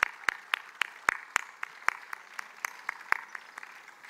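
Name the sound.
round of applause for kids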